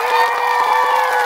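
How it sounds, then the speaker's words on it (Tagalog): A crowd at a film special screening in Dubai cheers and shouts together in a loud, sustained roar of high voices, dense and continuous for the whole moment. "sabay-sabay po tayong palakpak na may kasamang hiyawan."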